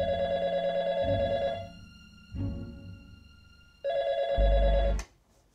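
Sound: telephone ringing

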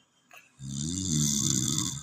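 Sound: snoring of a drunk sleeping man

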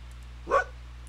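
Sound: wolf avatar barking in Second Life virtual world game

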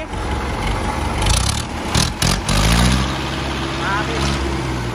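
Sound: Iseki 7010 tractor engine being switched off

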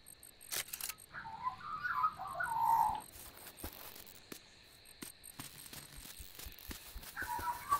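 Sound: bird calling in the video game Dinkum

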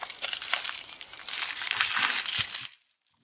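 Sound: unwrapping taped bubble wrap from a supercharger inlet

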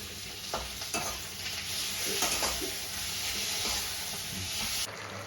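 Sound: frying garlic and spices in pan

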